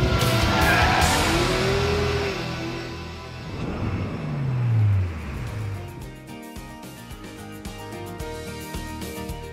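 Porsche 911 GT3 RS sliding at speed on the Nardo test track, loud engine roar with tire squeal and skidding through the first half, settling into a steady drive-by rumble.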